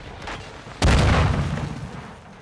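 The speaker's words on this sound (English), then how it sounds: "They're shooting at me!" Gunfire in Call of Duty: Modern Warfare 2 ends in one loud, close boom that decays over about a second, after softer distant shots.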